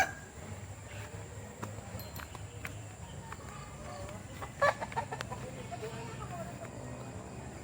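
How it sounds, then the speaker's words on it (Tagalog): Chickens clucking and calling amid general outdoor farmyard noise, with people talking nearby; one sharper bird call stands out briefly. "Oh, ang daming manok."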